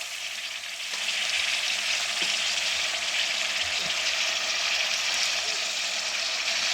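Chopped tomatoes go into a pan of potatoes frying in oil for aloo palak. The sizzling rises and then holds as a loud, steady hiss, with no one speaking.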